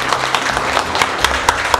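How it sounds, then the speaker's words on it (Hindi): Lively clapping from a group in an indoor interview gathering, many hands clapping steadily and fairly close, with a few sharper individual claps punctuating the continuous patter. "एक बार धीरज के लिए जोरदार ताली बजाओ यार"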